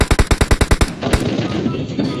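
Rapid automatic gunfire in a battle royale video game, about eight sharp, close shots in a fast even burst, then a single shot and fading echo.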